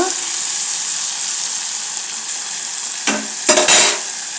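Tomatoes fry steadily in hot oil for Telangana bagara fenugreek-leaf dal, a continuous close sizzle with a few louder stirring scrapes near the end.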